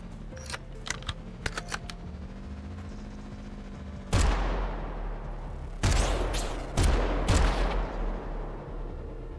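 Rapid main-weapon gunfire in the Trace Hunters video game, loud bursts of repeated shots beginning midway and coming in several close clusters, with faint clicks and ticks earlier.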